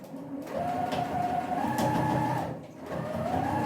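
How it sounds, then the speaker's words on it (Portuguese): A sewing machine running a straight seam on a cushion cover, a steady mechanical hum and whir that dips briefly before resuming, close and continuous with no talk. "só vou fazer uma costura reta mesmo"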